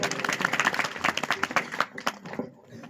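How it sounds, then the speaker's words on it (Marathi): Quick, uneven hand claps from a small group ring out fairly close, a rapid patter of sharp slaps that thins and fades toward the end, with faint talk in the background. "टाळी वाजव टाळी"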